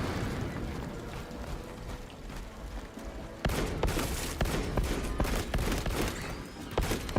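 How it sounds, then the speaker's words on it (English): Frag grenade thrown in the Siege Mode video game amid a dense, continuous din of gunfire, with a sudden louder burst midway that stays busy with sharp overlapping shots. "Releasing frag grenade."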